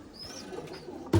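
Rooftop loft pigeons of the Madrasi and Malwai breeds coo softly for just over a second, fairly faint against background noise, ending in a sudden low thump.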